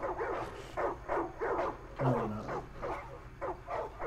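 Dogs in the video game Far Cry 5 bark repeatedly in a rapid, uneven series of short yaps, moderately close, with a brief spoken line from a player partway through.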